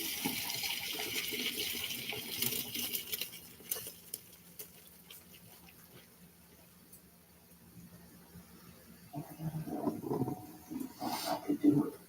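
Noodles for beef noodle draining in a kitchen strainer, a soft watery patter and trickle that fades out midway, then returns with louder splashes and clatter near the end.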